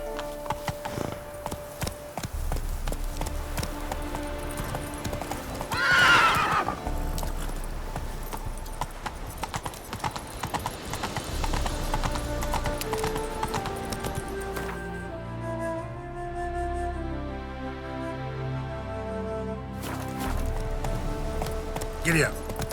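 Horse hooves clip-clop steadily through a Witcher 3 game scene, a fairly close rhythmic gait running under game music and a voice, with one brief louder burst in the middle.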